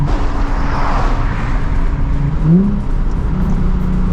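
A Nissan 350Z's HR V6 engine hums steadily under road noise, then briefly climbs in pitch around the middle as it revs before settling back.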